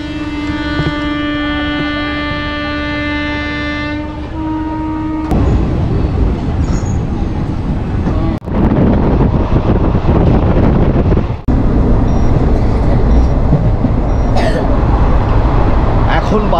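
A Shaktipunja Express train on the Howrah to Ranchi route in Jharkhand, first a sustained horn-like tone, then loud rumbling wheels and strong wind buffeting close to the microphone as the train runs.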